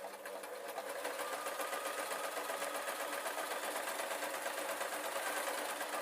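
An electric sewing machine stitches felt for a dwarf hat, a steady fast mechanical whir and patter that rises slightly as it gets going and then runs on evenly, close up.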